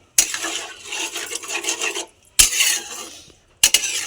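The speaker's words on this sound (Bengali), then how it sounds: "এবার আমি ভালো করে মিশিয়ে নেবো এটা।" Poppy seed and green chilli paste is stirred into a pointed gourd and prawn curry in a pan, giving scraping, rasping strokes in three bursts with short pauses between, close and fairly loud.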